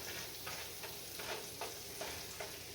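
Onions frying in grease in a hot pan, a steady soft sizzle with faint stirring scrapes at a regular pace, close and quiet, no talking.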